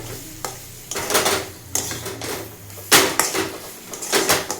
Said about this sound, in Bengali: ভিনিগার দিয়ে একটুখানি নাড়িয়ে নিলাম